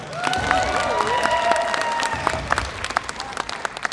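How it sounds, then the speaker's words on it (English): Crowd at a cosplay contest at Visioncon 2023 clapping and cheering, a busy wash of applause with whoops and excited voices rising over it, moderately loud and close, tapering toward the end. "give her a round of applause"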